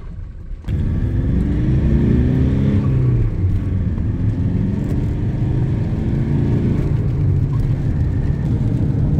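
A car drives along a road in Mapua, New Zealand after a storm, starting up and holding a steady close engine rumble with a shifting whine as it accelerates, heard from inside without talk.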